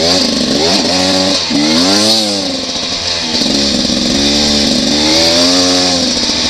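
A Beta 300RR dirt bike engine revs hard while riding on dry ground, the pitch climbing and dropping through several throttle bursts. Loud and close, continuous for the whole stretch.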